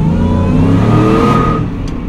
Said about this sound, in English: It was a full, wide open throttle pull.